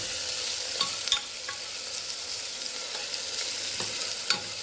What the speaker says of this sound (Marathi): मसाले छान परतून घ्यायचे आहेत.